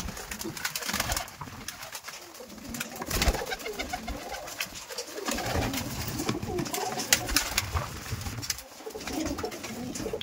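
Giribaz pigeons, including Kaldom and Kalasabuj varieties, coo repeatedly in soft, throaty rolling phrases close by, several birds overlapping in an uneven rhythm with no talking.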